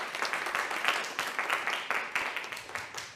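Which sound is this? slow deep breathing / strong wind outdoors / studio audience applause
studio audience applause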